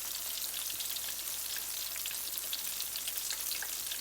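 Potato pakoras fry in hot oil, making a continuous dense crackling sizzle, steady and close, with no voices.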